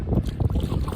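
Gusty wind buffeting the microphone on the Catawba River during a canoe trip, a low rumbling roar that rises and falls in uneven bursts, with no clear talking.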